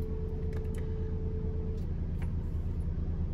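A white 2015 VW Crafter 2.0L diesel long-wheelbase panel van idling close by, a steady low rumble with a faint whine and a few light clicks over it, no voices.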